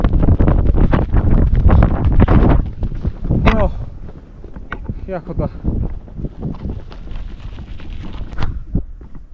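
Strong wind on a high mountain trail near Dingboche, at almost 4,500 metres in the Everest region, buffets the microphone with loud, steady roaring gusts while someone talks over it.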